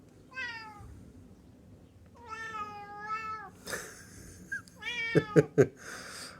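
A cat meowing outdoors, two long drawn-out meows followed by a shorter call and a few sharp close thumps or taps, loud and near with no talk.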